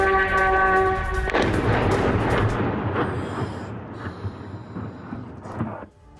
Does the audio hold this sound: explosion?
yes